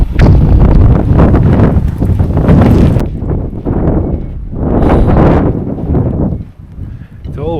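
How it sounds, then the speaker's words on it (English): Strong Arctic winter wind buffets a sailboat in snow, roaring and gusting loudly into the microphone in surging waves. A brief voice surfaces at the very end. "the wind has blown everything away"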